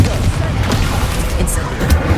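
A Confringo blasting-spell explosion during combat in Hogwarts Legacy. A short, dull boom sits within dense game noise and a brief scattering of thuds.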